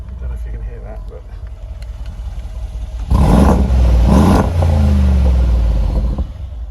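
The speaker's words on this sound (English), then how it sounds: "I'm not usually one to rev an engine" A 2015 Mercedes-Benz G63 AMG engine idles low, then revs hard in two loud bursts before settling into a strong, steady rumble up close.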